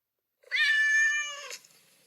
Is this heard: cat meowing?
yes